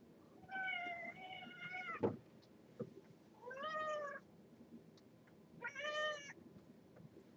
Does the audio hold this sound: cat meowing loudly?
yes